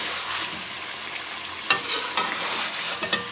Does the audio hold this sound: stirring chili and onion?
yes